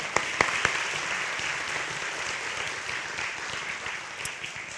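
An audience at an international school graduation ceremony applauds in a steady, moderately loud wash of clapping, with a few sharper individual claps standing out near the start and near the end.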